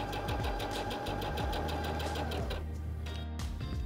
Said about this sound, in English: I'm going to lower the presser foot lifter and step on the foot control to sew.